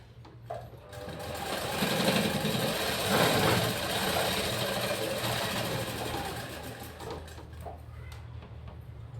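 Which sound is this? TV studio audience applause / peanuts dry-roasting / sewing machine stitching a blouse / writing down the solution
sewing machine stitching a blouse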